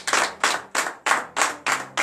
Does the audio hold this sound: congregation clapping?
yes